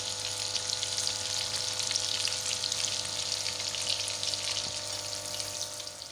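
Besan-coated Lahori fish frying in a pan, a steady close, even sizzle and crackle of oil that holds at the same loudness throughout, with no talking.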